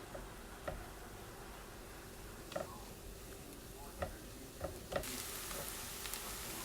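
Potato pieces frying in a pan for an Italian frittata, a steady faint sizzle with occasional soft clicks and stirring taps, the hiss brightening near the end.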